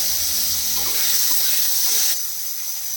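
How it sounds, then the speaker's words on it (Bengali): Chopped onion, capsicum and tomato lightly frying in a pan for a paneer pizza topping, giving a close, loud, steady sizzle and hiss that eases slightly toward the end. "এই যে পেঁয়াজ কুচি, ক্যাপসিকাম কুচি আর টমেটো কুচি, আমি এগুলো একটু হালকা আছে ভেজে নিচ্ছি"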